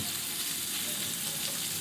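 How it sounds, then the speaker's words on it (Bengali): Fish frying in oil heated on a high flame in a frying pan makes a close, loud, even sizzle that carries on without a break. "একটা ফ্রাইং প্যানে তেল দু তিন মিনিট খুব ভালো মতো হাই ফ্লেমে গরম করে নিয়ে মাছগুলোকে আস্তে আস্তে ছেড়ে দেব"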